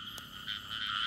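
Frogs keep up a dense, continuous croaking chorus at a night frog-hunting spot, calls rising slightly toward the end, with a brief click near the start and no voices.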